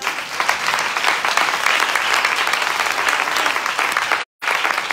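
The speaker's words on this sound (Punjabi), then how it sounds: "ਤਾੜੀ ਮਾਰੋ ਤਾਂ ਦੇਖਣ ਜਾਗਦੀਆਂ" A congregation claps steadily and densely at a church service, a continuous wash of many hands that stops abruptly for a split second near the end before resuming.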